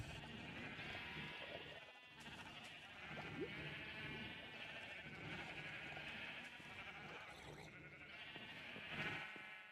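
Sheep on a Minecraft farm bleat repeatedly in the game, several overlapping baas sounding steadily over a busy background, no talk over them.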